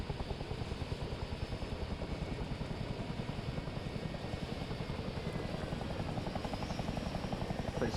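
Helicopter rotors in a military training video game spin up in a steady, fast beating chop with a continuous engine whine, droning evenly and fairly close throughout.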